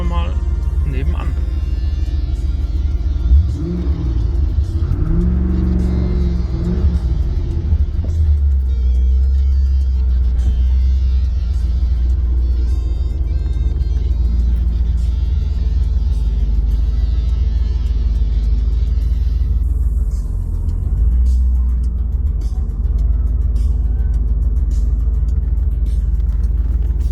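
A 1991 Corvette C4 ZR-1 with pop-up headlights drives along, its low engine rumble loud and steady throughout with brief rises in revs; someone talks over it for much of the time.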